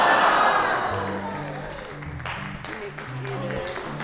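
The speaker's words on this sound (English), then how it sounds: "let there be a great huzzah that goes out from the crowd" Church congregation at a livestreamed worship service giving a great huzzah: a loud burst of cheering and applause that fades over a few seconds as voices continue murmuring and talking beneath.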